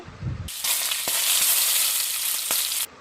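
Potato and bottle gourd added to hot oil with dried chilli and radhuni for a vegetarian curry, a sudden loud burst of sizzling that holds steady with a couple of stirring knocks before abruptly stopping.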